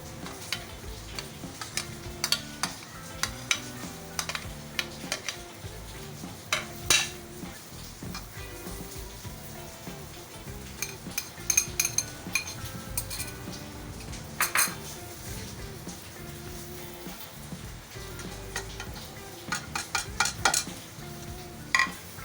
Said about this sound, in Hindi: ये मैंने कीमा ले लिया है, ये सब चीज़ें मैं इसमें मिक्स कर देती हूँ।